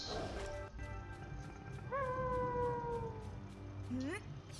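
Creature howling in the video game Xenoblade Chronicles 3. Sustained, wavering, pitched wails rise and hold over a rhythmic music bed, with a second rising cry near the end.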